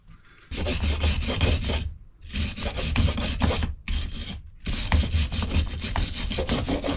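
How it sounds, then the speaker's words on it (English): Sanding boat trailer hub parts by hand: rapid back-and-forth rasping strokes in several bursts separated by short pauses, close and loud, with no voices. "So I'm going to sand them down first and get rid of these washers."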